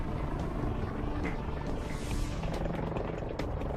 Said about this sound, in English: Every second the EH-101 is in flight, its massive main rotor is shoving up to 45 tons of air out of its way.